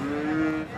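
A seven-to-eight-month-old crossbreed bull calf at a cattle market gives one short, loud, close moo.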